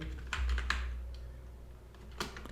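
Keys clack on a computer keyboard as a SQL create-table command is typed, two short bursts of quick taps with a quiet pause between, close and fairly soft.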